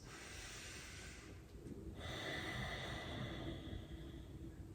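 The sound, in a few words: exhaling through the nose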